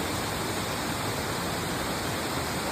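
Hulugan Falls in Luisiana, Laguna pours with a steady, dense roar of rushing water, close and unbroken throughout, with no voices.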